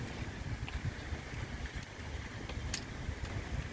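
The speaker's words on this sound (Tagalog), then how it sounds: "Hangin." Wind at a beach rushes steadily into the microphone as a constant broadband roar with low buffeting rumbles, with no talk.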